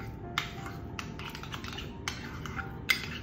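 A spoon stirs a no-cook watermelon starter mixture after salt has been added, giving light scraping and a few clinks against the bowl, close and quiet with no talk.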